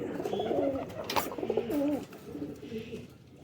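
Kasuri high flyer pigeons, males among them, cooing close by in a cage, several clear rolling coos in a row over a steady background hum.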